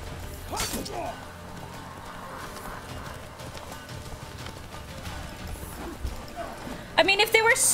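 Galloping horse in The Witcher 3 video game, steady clip-clop hoofbeats running through most of the stretch under game sounds and talk, with a brighter, louder burst near the end.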